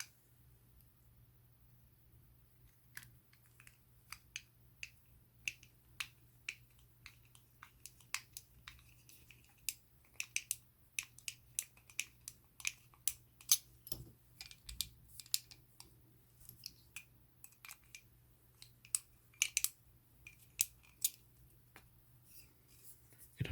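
Screws are driven by hand into plastic parts of a 1965 Shelby Cobra scale model kit, giving sparse, sharp ticks and small scraping clicks close up over a faint steady hum, with no talking.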